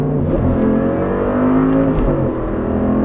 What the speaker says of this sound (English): Keep full throttle all the way down.